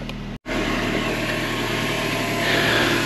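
A 29-year-old Mercedes engine idles steadily after a brief cut, a continuous low hum with a slight rise in level near the end.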